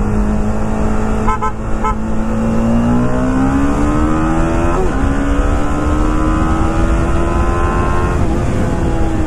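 A BMW G310 RR motorcycle engine drones loud and close while being ridden, its pitch climbing steadily as it revs, with a couple of brief horn-like tones early on.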